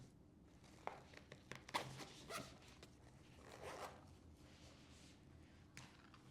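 A double YKK zipper on a small pouch is drawn open in several short, close, rasping pulls with soft handling rustles between them, quiet and without talk.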